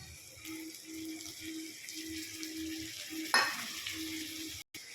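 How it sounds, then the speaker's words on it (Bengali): Spices hit a pan of pointed gourd and potatoes with a soft continuous sizzle, steady frying hiss broken by a sharp clatter of a utensil midway. "এবারে পটল আলুটার উপরে মশলাটা দিয়ে দেব"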